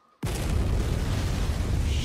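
A sudden loud explosion bursts in after a brief silence, followed by a sustained rumbling roar that stays strong to the end.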